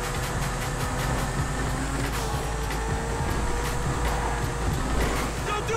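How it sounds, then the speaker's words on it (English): A turbocharged car engine in GTA 5 drones loudly and steadily with a whining, whooshing tone and rhythmic pulsing throughout, with no speech. "Listen to that turbo."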